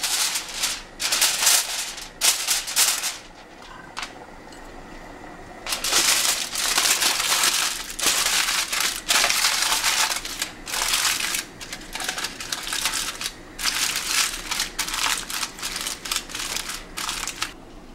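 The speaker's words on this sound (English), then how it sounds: "I'm gonna cover it with foil." Aluminium foil crinkling and crumpling close up while it is pressed over a pot of Nigerian party jollof rice, in irregular loud bursts with brief quiet pauses.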